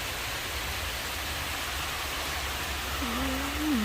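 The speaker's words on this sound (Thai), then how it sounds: "ฝนตกมาแล้วจ้า" Steady, even storm rain hissing continuously, close and constant, with a faint tonal whistle near the end.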